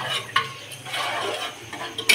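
Potatoes and onions for chicken korma being stirred and fried in a pot, with a steady sizzling wash broken by a few sharp clinks of a utensil against the metal, close and continuous, with no talking.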